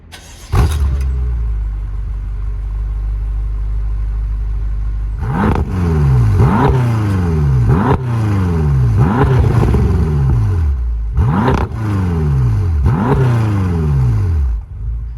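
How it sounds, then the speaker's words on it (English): A BMW F13 M6 with a stock exhaust fires up its V8 with a loud starter bark, settles into a rumbling idle, then gets a series of sharp revs that rise and fall, several in a row, close and dominant with no voices. "Whilst we're here, I'll turn the car on so you can hear what it sounds like."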